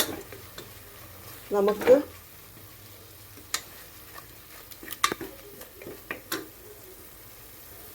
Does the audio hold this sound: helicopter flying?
no